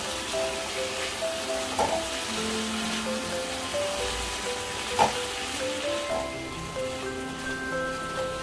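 Chili chicken sizzles in a pan as sauce is stirred through it, a steady frying hiss with occasional spoon scrapes and clinks against the pan.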